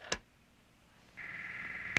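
A telephone number is dialed in a detective drama: a sharp click, a quiet pause, then a steady electronic tone held for nearly a second and cut off by another click.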